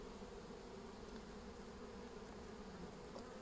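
Honey bees swarm around an open, active hive in spring, a steady dense buzzing drone that holds evenly throughout, close by but fairly quiet.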